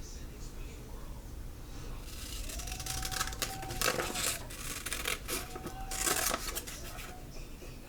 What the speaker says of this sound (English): I'm going to go ahead and cut out the other one.